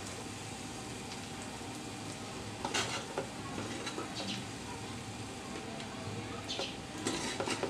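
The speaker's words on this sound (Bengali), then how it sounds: "তারপরে একটা নাড়া দিচ্ছি।" Cooked rice for Bangladeshi pea pilau being stirred in a pot, a soft scraping and rustling over a steady low background hum, with a few brighter clinks of the spoon against the pot.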